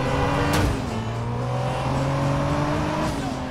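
Racing-game car engine from Driver San Francisco roars at high speed, a loud sustained whine with shifting pitch and a brief swoosh, steady throughout with no talk.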